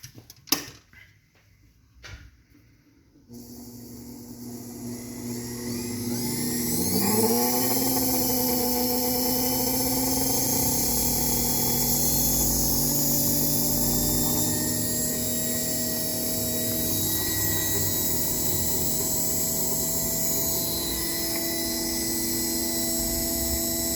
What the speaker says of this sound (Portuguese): A gente só vai dar um teste nele agora em corrente contínua.